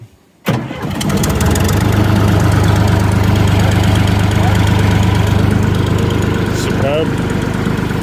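A three-cylinder engine on a 1974 O&K MH3 excavator cranks and catches after a short quiet moment, then settles into a loud, steady, close running chug with a brief squeak near the end as someone speaks.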